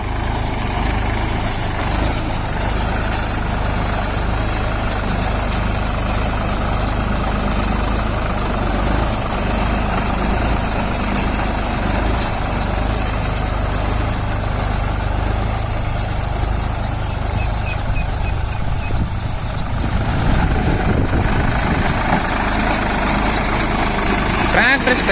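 A Sonalika Tiger DI 50 4WD 52 HP tractor engine runs steadily during a PTO performance test, with a low, constant idling rumble throughout and louder revving near the end.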